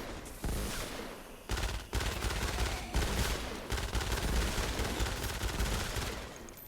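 Bursts of rapid Super Shredder gunfire in Fortnite: Save the World, loud and dense with short pauses between volleys.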